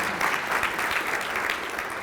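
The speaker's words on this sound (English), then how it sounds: "let's applaud them" An audience at a Chamber of Commerce legislative luncheon claps in steady, dense applause, fairly close and even throughout the short stretch.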